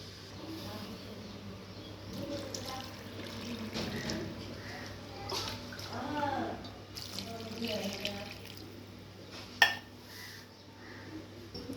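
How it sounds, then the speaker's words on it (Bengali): Water is poured into a pressure cooker holding urad dal with turmeric and oil, a soft uneven splashing and trickling at low level, with a sharp clink near the end. "এবার আমি জল দিয়ে দেবো।"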